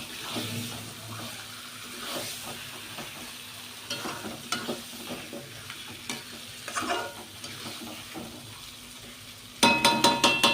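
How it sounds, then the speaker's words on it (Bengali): Chicken sizzles and is stirred in a pan, a close steady fry with intermittent spatula scrapes, ending in a few louder metallic clanks. "এবার চিকেনটাকে ভালো করে কষিয়ে নেব"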